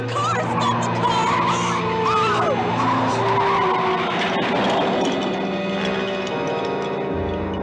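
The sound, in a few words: car driving fast with skidding tires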